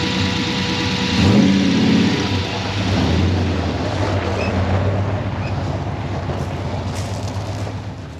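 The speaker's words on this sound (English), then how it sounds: "we got it running, so it drove outside, end of the driveway and back in" A freshly revived project car's engine runs steadily and close by as it idles and pulls out toward the end of a driveway, a continuous low rumble with slight revving swells early on and no talking.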